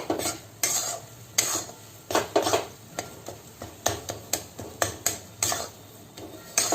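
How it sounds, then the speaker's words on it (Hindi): Crumbled khoa is stirred into mohanthal halwa in a kadhai with a regular rhythm of scraping strokes and metal knocks, roughly one or two per second, close and fairly loud under a faint sizzle. "खोए को बारीक कोर ले बिल्कुल और इसमें डाल दें। इसे 1 से 2 मिनट के लिए चला लें।"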